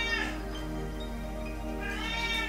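A cat meows in a drawn-out way during a yoga session, with the call rising at the start and again near the end over a steady low background hum. No one speaks.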